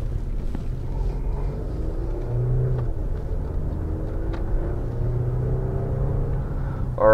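A 2017 Mercedes GLE350 pulls away, its low engine rumble and road noise steady throughout from inside the cabin, with a gentle rise in drone as it accelerates.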